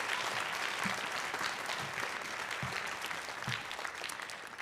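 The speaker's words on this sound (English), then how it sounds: "Give them all a big round of applause" A school concert audience gives a big round of applause to the middle school orchestra students, steady and full throughout with a slight fade at the end.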